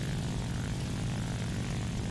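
Propeller fighter plane engine from the War Thunder combat flight game, a steady dense droning roar heard alone and continuously for a couple of seconds.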